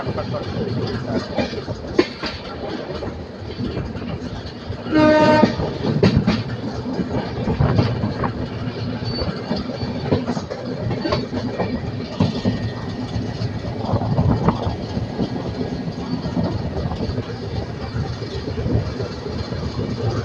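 Shatabdi Express train 12025 runs near Kalaburagi with a continuous clattering rumble of wheels on track and a short tonal horn blast early on, heard steadily from inside the moving train.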